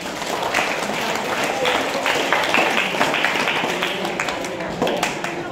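Classroom applause for a student presenter during a Buddhist-based human quality development lecture: a dense, steady patter of many hands clapping close by for several seconds, with light voices mixed underneath.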